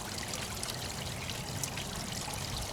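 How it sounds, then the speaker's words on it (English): Water trickles steadily out of a nozzle at an outdoor koi pond, a continuous close splashing dribble with no voices over it. "the water comes through here, and it comes out this nozzle this way"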